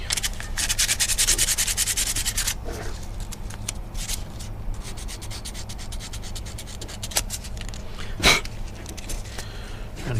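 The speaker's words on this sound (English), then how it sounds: "Trying to get the rust off the rotor" A rusted brake rotor on a Cadillac Coupe Deville barn find is scraped by hand in steady, rapid rubbing strokes that continue throughout, close and fairly loud, with one sharper knock near the end.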